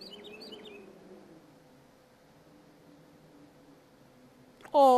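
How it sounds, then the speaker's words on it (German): A bird in the video game The Forest gives a few faint, quick chirps at the start over a low ambient hum, and an abrupt louder tone cuts in at the very end. "da ist ein Vogel in unserem Inventar."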